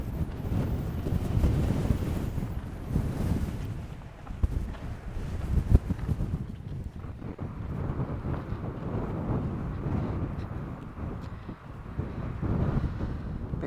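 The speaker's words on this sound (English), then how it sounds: "It is so windy, hey?" Strong coastal wind on the Ningaloo Coast near Exmouth, Australia, buffets and roars continuously, with gusts rising and falling throughout.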